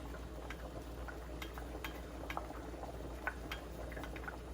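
A pot of Nigerian Ofe Owerri soup with meat, stockfish and red oil simmers at a low boil, giving soft, steady bubbling with scattered faint pops and plops, heard alone with no talking.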